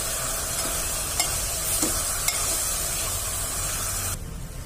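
Boiled rice being stirred into sugar syrup in a pan for sweet yellow rice, giving a steady close bubbling sizzle with a few soft spoon scrapes, then the sound drops away abruptly near the end.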